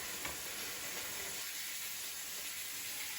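Meat browning in a pan for a pot roast dinner, a steady close sizzle and hiss that runs unbroken throughout with no voices.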